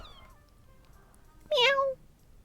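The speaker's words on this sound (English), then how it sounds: "As I turn the corner, I can hear loud meows." A single loud, drawn-out meow from a kitten stuck on a thin tree branch, close by and rising then falling, following a quieter stretch of faint background tones.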